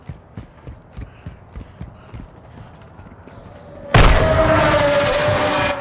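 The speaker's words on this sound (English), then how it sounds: "I heard footsteps and I thought it was in front of me." Footsteps in Call of Duty Modern Warfare 2 come as a steady run of distinct thuds for about four seconds, then a loud blast of gunfire or an explosion takes over.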